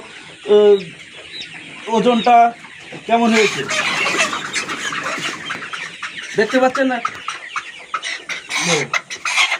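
Colour bird chickens and a rooster cluck in sharp, agitated bursts while being caught and weighed, close up, with someone talking between and over the calls.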